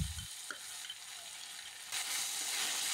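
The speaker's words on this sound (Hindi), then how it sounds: "और अच्छे से मसालों को हम भून लेंगे" Poppy seed and green chilli paste fries with potato in a pan, a steady hiss that swells louder partway through, with a low clatter near the start and faint scraping of stirring.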